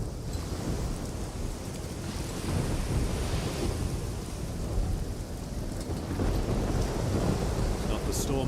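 Storm in the video game Risen 2: Dark Waters, with steady heavy rain and deep rolling thunder in a dense, continuous roar, plus a brief faint high sound at the end.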